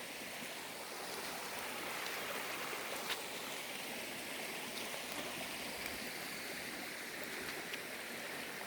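Spring water swollen by an all-night downpour rushes across a road, making a steady, full hiss of flowing water throughout with no pauses.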